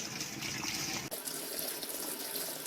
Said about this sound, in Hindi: अब इनको खुले पानी में अच्छे से वॉश कर लेंगे ताकि सोया की स्मेल चली जाए।